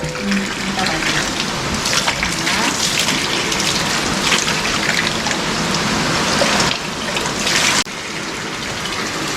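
Water runs at a mountain spring, a continuous close gushing and splashing that holds steady throughout and drops slightly in level near the end, with no talking.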